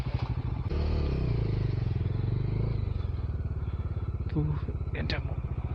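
A motorcycle ridden slowly chugs along with a steady low engine thump and some clatter, while a person talks over it.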